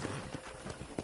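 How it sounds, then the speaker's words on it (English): Horse hooves clip-clop quietly and steadily in the Red Dead Redemption video game, a rhythmic trot on a ranch with a low ambient bed underneath. "let's see if you can still ride a horse."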